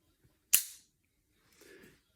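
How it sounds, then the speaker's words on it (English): A gun hammer falls on a revolver-style handgun while it is being decocked, making one loud, sharp metallic click close up. A softer, brief mechanical rustle follows about a second later. "There's a loud click sound when it hits."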